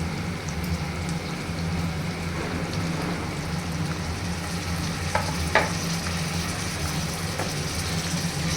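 Chunks of tomato are stirred into a sizzling pan of fish curry base: a continuous close frying hiss with a few soft scraping knocks from the spoon.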